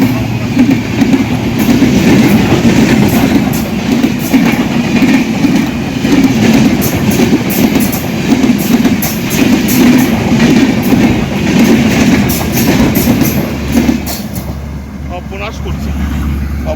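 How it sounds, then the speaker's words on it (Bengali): A train passes close by on railway tracks, a loud, continuous rumble with rattling wheel clatter that holds steady and then eases off toward the end. "এই ট্রেন আসছে"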